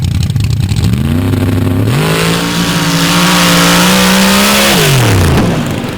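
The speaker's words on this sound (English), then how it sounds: "Rick George comes back to the line in this brand new Ford Bronco, racing in the dirt-built machine" A Ford Bronco dirt drag racer launches and accelerates hard down a dirt track, its loud, close engine climbing through rising gear pulls in one sustained, roaring run.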